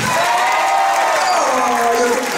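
Concert audience at a live show at the Café de la Danse cheering and clapping steadily, a voice carrying over the crowd noise throughout.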